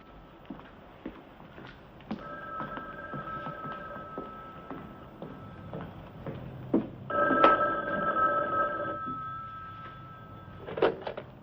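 A telephone rings in an empty theater, its bell sounding in two repeated bursts of ringing separated by a pause, fairly close and clear against a quiet room with faint shuffling.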